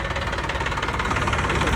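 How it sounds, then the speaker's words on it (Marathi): A new tractor's engine running nearby, a steady knocking diesel chug with even rhythmic pulses, continuous and fairly loud. "मामाचा नवीन ट्रॅक्टर"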